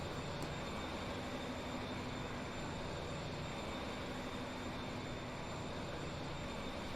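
A train runs in the Transport Fever 2 video game on a UK line, giving a steady, even rumbling hum that holds at one level throughout with no other sounds.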